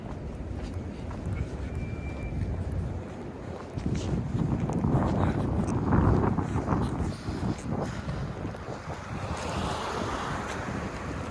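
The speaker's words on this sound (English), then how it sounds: "It was freaking windy, man. Like 76 kilometers per hour." Strong gusting wind at night on a downtown Toronto street in the financial district roars and buffets steadily, with surges throughout like heavy microphone wind noise.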